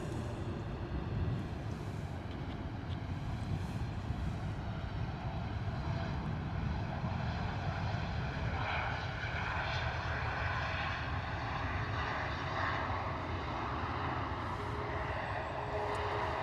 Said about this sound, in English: Ryanair in from Porto.